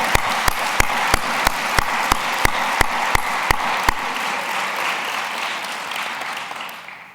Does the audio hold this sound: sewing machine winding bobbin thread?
no